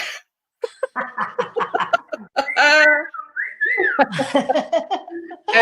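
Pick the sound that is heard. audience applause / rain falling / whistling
whistling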